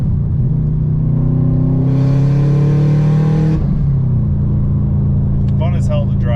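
A 2012 Subaru WRX hatchback engine idles and runs with a steady low rumble, its pitch rising briefly in the middle as it revs, then settling back, loud and close.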